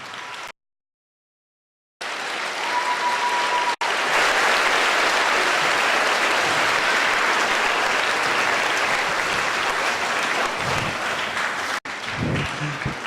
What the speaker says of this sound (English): How about another nice round of applause for Lieutenant Colonel Sandusky?